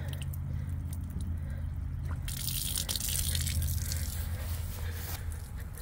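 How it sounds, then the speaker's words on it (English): Water drains from the hot water lines of an RV being dewinterized, with the water heater bypassed, a steady hissing wash of running water that swells louder partway through and stays constant, close by with no speech. "got the hot water side draining"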